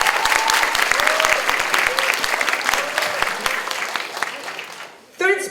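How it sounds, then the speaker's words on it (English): A debate audience gives a burst of dense, close applause that gradually thins and fades, with a voice starting to speak just as it ends. "Everyone, please give a round of applause to him."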